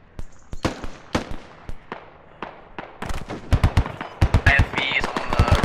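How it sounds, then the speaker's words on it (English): Machine gun fire in a tactical military shooter game: scattered single shots early on, then dense, rapid bursts of loud, close gunfire with thuds toward the end. "I think there's a machine gun set up watching the road."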